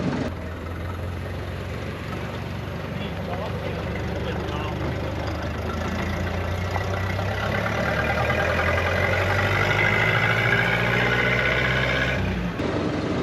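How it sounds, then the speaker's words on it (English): A 94-year-old Ford Model A flat-bed truck, long left rotting, drives on the road with its engine and exhaust running steadily, a low throaty drone that rises gradually as it accelerates, close and continuous, with speech partly over it. "The exhaust sounds phenomenal now."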